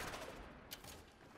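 Azima secondary fire in the video game Warframe, a thrown disc spraying bullets: a fast, dense burst of gunfire with one sharper shot partway through, all fairly faint and muffled, with no voices.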